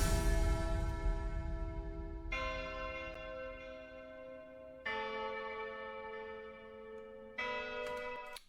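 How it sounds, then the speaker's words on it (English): Tuned church bell strikes in an electronic music track, four separate rings each decaying slowly with a bright metallic ring, heard alone after a short burst at the start. "I have a church bell here that I like."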